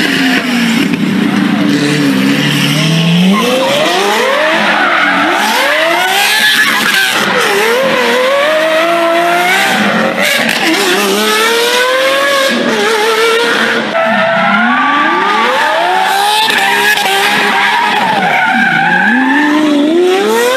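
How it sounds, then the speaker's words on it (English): A Lamborghini doing donuts, engine revving hard and tires skidding and squealing in repeated rising and falling sweeps, loud and continuous throughout. "Amazing donuts for Lamborghini."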